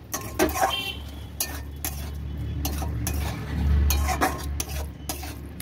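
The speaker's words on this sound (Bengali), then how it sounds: "মিষ্টি দিয়ে একটু নেড়ে নিতে হবে" Palak paneer with ghee and sugar being stirred in a pan, several sharp metallic scrapes and clinks of a spoon against the pan over a soft low hum.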